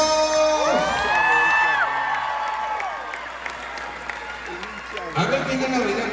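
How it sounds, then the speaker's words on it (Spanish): A crowd at a concert cheers, whoops and applauds, with loud sustained shouts and rising calls over steady clapping, fading somewhat midway before swelling again near the end. "¡Aplausos!"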